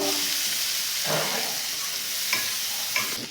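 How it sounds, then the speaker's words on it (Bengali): Onions fried with crushed garlic in a pan for mixed fried rice, a steady close sizzle with a few scraping stirs of a spatula and light clinks against the pan. "সেই পেঁয়াজগুলো দিলাম পেঁয়াজগুলো একটু ভাজবো"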